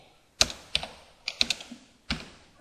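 A computer keyboard being typed on in a few separate clusters, crisp close clicks and key thuds with short pauses between them, no voice over them.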